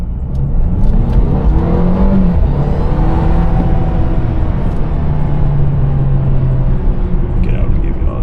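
Twin-charged Mercedes car accelerating hard without launch control on late-night Atlanta streets, a loud continuous engine roar with rising and falling whine as it pulls through gears, heard from inside the cabin.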